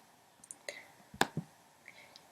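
A computer mouse clicks several times in a quiet room, producing faint, sharp, separate clicks spread irregularly across a couple of seconds.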